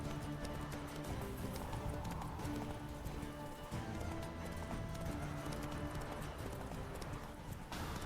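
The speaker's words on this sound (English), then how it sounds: "Yeah, Roach is fixed. Giddy up" A horse gallops in The Witcher 3, its hooves clip-clopping in a fast steady rhythm under a continuous rush of game ambience, fairly quiet overall.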